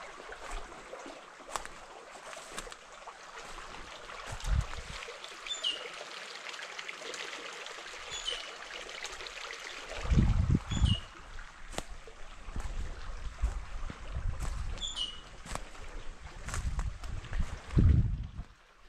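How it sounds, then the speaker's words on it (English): A small stream flows steadily through a semi-rainforest with a continuous trickling, splashing rush. Birds chirp briefly now and then, and a few louder gurgles and splashes rise up near the end. "All you hear is the birds and the water."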